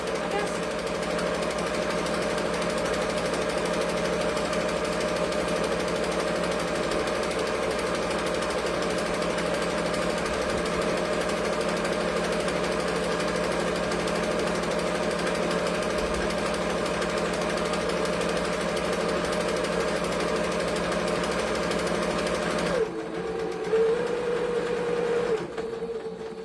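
A sewing machine stitches fabric in one long, steady, loud mechanical drone. Near the end it changes briefly as the run stops and shifts.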